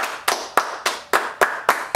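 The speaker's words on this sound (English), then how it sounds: "Let's give her another clap" Hands clap in a slow, steady rhythm, about eight sharp claps spaced evenly and close to the microphone, with no voices.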